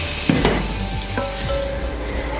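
Boneless chicken cubes sizzle in a pan of frying onions, a steady, moderately loud hiss with a few clinks and stirring scrapes near the start.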